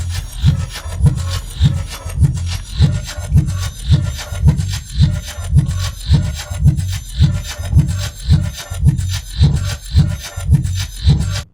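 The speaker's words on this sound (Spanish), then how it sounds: "el disco pues se oye al revés" A vinyl record spins backwards on a Technics turntable, giving a rhythmic, pulsing loop of low thumps and scratchy wooden-sounding rasps, loud and steady throughout with no talk.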